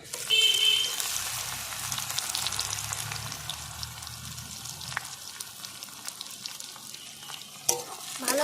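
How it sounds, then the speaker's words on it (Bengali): Small chopped onions fry in hot oil for a chicken and potato curry, a continuous close sizzle broken by frequent stirring scrapes and light spatters, with no talking. "পেঁয়াজটাকে আমি লাল করে ভেজে নেব"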